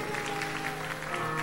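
Audience applause for a duo at a sertanejo music special, a steady, dense wash of clapping throughout with no clear breaks.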